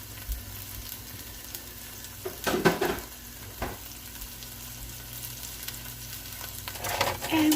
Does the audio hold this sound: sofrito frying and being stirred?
yes